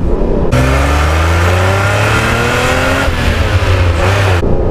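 A Ferrari Testarossa flat-twelve engine revs hard in first gear, a loud rising howl climbing steadily, easing briefly near the end, then climbing again before cutting off abruptly.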